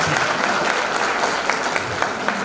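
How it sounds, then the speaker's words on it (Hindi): An audience at a stand-up comedy show applauds loudly and steadily. The dense clapping continues throughout, with a faint murmur of crowd voices beneath it. "एक बार सर के लिए थोड़ा जोरदार ताली होनी चाहिए।"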